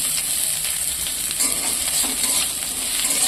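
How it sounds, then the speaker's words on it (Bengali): Chopped onions frying lightly in hot mustard oil in a pressure cooker pot, a steady close bright sizzle running throughout with faint stirring scrapes, no voices. "তেলটার মধ্যে হালকা করে ভেজে নেব। খুব লাল করার দরকার নেই"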